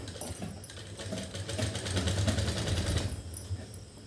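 A sewing machine stitches a single fold on a shirt in a fast, continuous mechanical rattle, close and steady throughout with slight swells in intensity.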